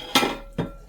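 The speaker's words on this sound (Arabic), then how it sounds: "شوفي انا نخلط وهي القرميشه تتقرمش" Rice mixed in a pot with crispy fried onions for a festive lamb and rice dish, almonds and raisins: two short, close scraping clinks of a utensil against the pot, with quiet between them.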